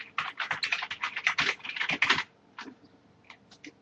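Fingers type a password on a computer keyboard in a fast, dense run of close clicking keystrokes for about two seconds, then a few sparse, isolated key presses follow.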